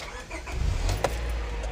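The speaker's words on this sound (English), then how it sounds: "I'm gonna turn on the engine and let's see how this thing works" A Honda Prelude engine starting up nearby, a brief cranking whir followed by the engine catching and settling into a low, moderate idle rumble.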